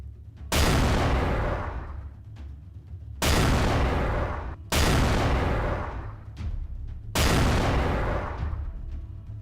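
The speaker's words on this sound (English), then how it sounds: "All cannons are in use and some test shots have already been fired." Cannons fire test shots in a video game, four loud booming blasts spaced a second or two apart, each with a long rumbling decay and no talking.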